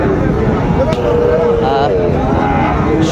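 Cattle, including young calves, at the traditional Raniganj weekly livestock market in Dinajpur, lowing loudly and close amid a busy crowd of voices and market babble.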